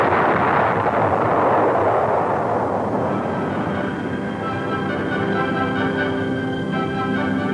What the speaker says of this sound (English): People from every station in life who now recognize the startling sonic boom as, indeed, the sound of freedom.